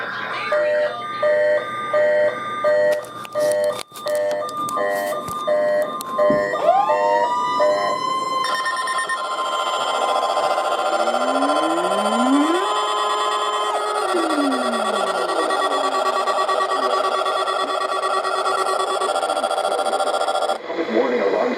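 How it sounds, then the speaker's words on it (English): A NOAA weather radio emergency warning alarm sounds loud and continuous as a steady shrill tone, following a run of broadcast data bursts, with talk from the broadcast heard around it. "Warning alarm system for NOAA."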